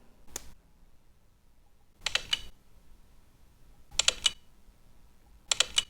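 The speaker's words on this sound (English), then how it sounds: "when you take a picture, it makes this really sweet noise" Camera shutter sound from a OnePlus 9 Pro phone fires four separate times at roughly two-second intervals, each a short, crisp, bright click burst, heard alone in a quiet room.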